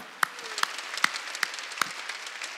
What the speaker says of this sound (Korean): 하나님께 우리 감사의 박수 보냅시다.